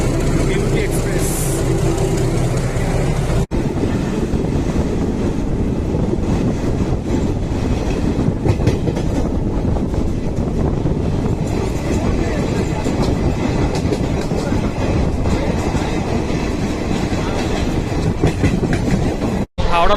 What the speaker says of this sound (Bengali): আমাদের ট্রেন বিভূতি এক্সপ্রেস 12333 হাওড়া প্রয়াগরাজ এখন হাওড়া স্টেশনে ঢুকছে।